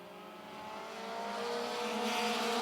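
Race cars accelerate around the Mt. Lawn Speedway oval, engines rising in a swelling roar that grows louder as the pack approaches, with no talk over it.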